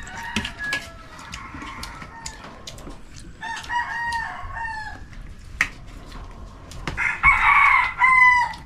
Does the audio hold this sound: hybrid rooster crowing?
yes